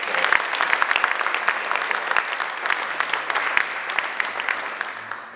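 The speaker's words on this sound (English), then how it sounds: "let's give Barbara a big round of applause" An audience applauds an award recipient at a university chancellor's address, a dense, steady wash of clapping filling the room for several seconds without a break.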